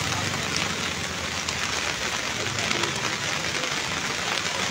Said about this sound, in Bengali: প্রচণ্ডভাবে বৃষ্টি চলছে